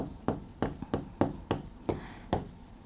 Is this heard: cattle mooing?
no